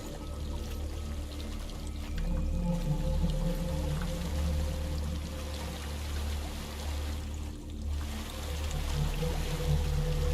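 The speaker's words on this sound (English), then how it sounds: "There's a waterfall." Waterfall in the video game Hellblade: Senua's Sacrifice, a steady, loud rushing pour of water that fills the scene continuously with a low churning roar, no voices.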